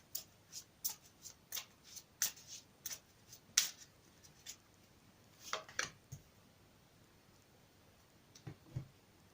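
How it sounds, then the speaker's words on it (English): Tarot cards being shuffled in quick bursts of crisp riffling and tapping, close and fairly quiet, with short pauses between flurries. "I'll give them another quick shuffle for you"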